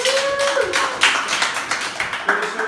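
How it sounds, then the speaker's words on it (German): A small group claps for a participant at a boxing training camp, steady close applause for a couple of seconds with a voice briefly calling out over it. "Applaus."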